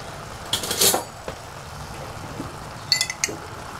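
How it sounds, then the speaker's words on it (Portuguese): A spoon clinks against a pan as homemade pepper sauce is added while cooking a ground beef and potato pie filling, a few brief metallic scrapes and taps, close and fairly quiet. "Vou colocar uma boa colher de calda de pimenta."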